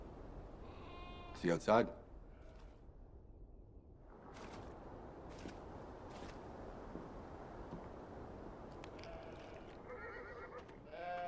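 Sheep bleat a few times in a farm scene from the video game Beyond Two Souls, a short close bleat standing out near the start over a low ambient bed while people talk.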